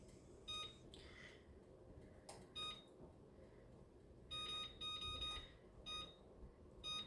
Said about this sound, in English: Let me get the timer going.